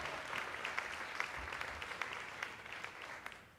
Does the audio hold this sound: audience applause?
yes